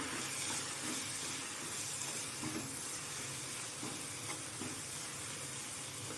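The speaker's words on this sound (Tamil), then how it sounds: "இப்போது இதெல்லாம் சேர்த்து கிண்டி விடலாம்." Masala spices with red chilli powder stirred and sizzling in a frying pan while making potato masala, a steady close hiss and crackle throughout, no voices.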